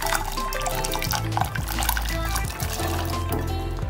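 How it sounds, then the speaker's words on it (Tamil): Sweet corn is cooked in water in a home kitchen, giving a steady bubbling, dripping liquid sound over a constant low hum, with faint clinks mixed in. "நம்ம ஸ்வீட் கார்ன தண்ணியில போட்டு வேக விட்டுடலாம்"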